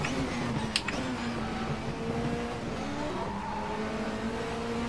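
A WTCC 07 touring car's engine in Race 07 at the Valencia circuit drones close and steady, its pitch sliding through gear changes, with a brief sharp click early on and no voices.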